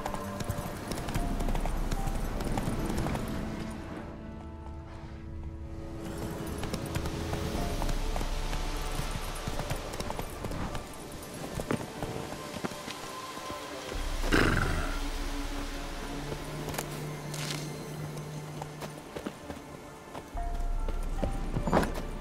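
Roach, the horse in The Witcher 3, gallops with rhythmic hoofbeats under game music and ambience, fading and returning across the stretch, with brief character voices and a neigh-like cry partway through.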